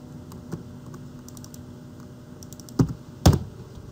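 Sparse keystrokes on a computer keyboard during CAD work: a few light taps, then two sharper, louder clicks near the end, close and quiet, with no talk.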